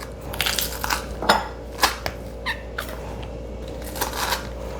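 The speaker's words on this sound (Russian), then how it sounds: "Чеснок мы выдавливаем через чеснокодавилку, да? Да, через пресс." Garlic being squeezed through a hand garlic press while making chimchi, a CIS-style kimchi, giving a series of short crunchy, crackling squishes at close range, several distinct bursts over a few seconds with no talking.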